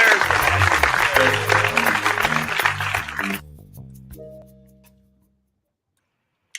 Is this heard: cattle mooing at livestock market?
no